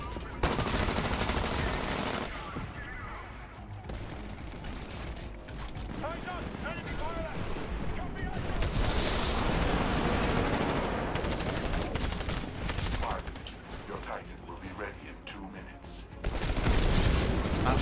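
Rapid gunfire and explosive bursts from the Titanfall campaign, dense and continuous for about eighteen seconds, with players talking over the shooting throughout.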